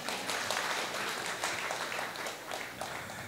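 An audience claps in steady applause at a church gathering, with dense overlapping claps that continue throughout at moderate distance.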